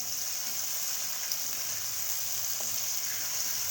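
Tomatoes frying in oil for kachnar qeema, a loud, even, continuous hiss of sizzling close up, with no stirring strokes or voices breaking it.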